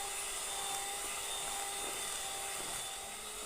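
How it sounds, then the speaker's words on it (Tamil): An electric mixer whirs in a steady high-pitched drone as it beats eggs and butter into a creamy butter cinnamon cake batter, and the sound stays even and unbroken throughout. "இப்போ முட்டை சேர்த்துட்டு நல்லா இதை பீட் பண்ணி எடுத்துக்கலாம்"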